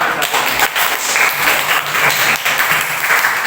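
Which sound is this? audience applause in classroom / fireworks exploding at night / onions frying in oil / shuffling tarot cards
audience applause in classroom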